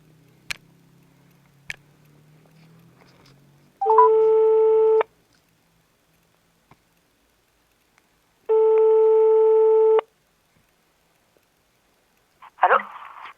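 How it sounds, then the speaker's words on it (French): Two long steady electronic ring tones of a telephone call to a landline, each about a second and a half, separated by silence, with faint clicks before and a brief rustle at the end. "Joseph, je t'appelle sur ton sur ton fixe."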